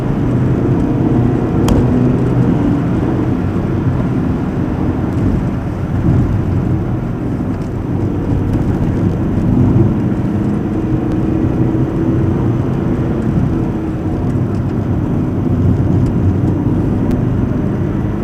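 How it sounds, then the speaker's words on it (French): A Volkswagen Polo 5 accelerates at full throttle, heard from inside the car as a steady, loud low rumble of engine and road noise that continues without a break and with no talking. "Là je suis pied au plancher par exemple."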